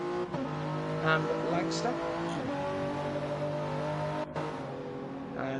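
BMW race car engine droning steadily at Monza during an 8-hour endurance race, with other cars running nearby and a commentator talking over the engine noise throughout.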